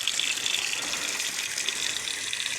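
Water runs through a brand-new RV water filter in a steady, hissing gush that stays even and loud with no talking.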